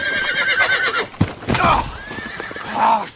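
A horse in a film neighs loudly with a shrill, wavering whinny, and hoofbeats and a sharp thud follow before another neigh near the end.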